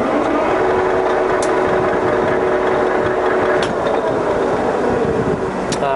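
A used Swift 10V3 lathe runs in gear with a steady, smooth mechanical hum and whir, loud and close, continuous throughout with faint occasional ticks.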